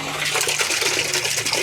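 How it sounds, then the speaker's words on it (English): Water rushes into a garden water butt under good pressure, a loud, steady gushing and splashing that continues without a break and with no talk. "my water butt is filling up and it's pretty good water pressure"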